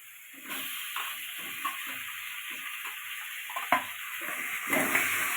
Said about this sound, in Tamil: தக்காளி போட்டு தக்காளி நல்லா சுண்டு வரணும் வதக்கணுங்க.